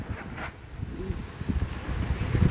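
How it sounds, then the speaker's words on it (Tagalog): Strong typhoon wind gusting steadily outdoors, a broad rushing roar with buffeting against the microphone, no talk. "ayan, lakas po ng hangin, no?"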